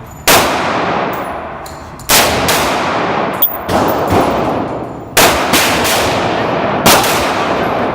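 Rifle shots fired at a range while testing a ten-round magazine block: five loud, sharp reports spaced a second or two apart, each leaving a ringing, echoing tail, with no talking.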